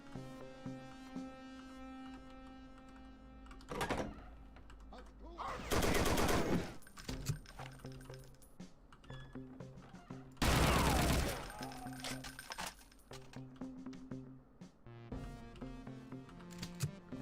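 Gunfire in the Brutal Wolfenstein video game: two loud bursts of rapid automatic shots stand out over a quieter background of music and game sounds, with a few scattered single shots.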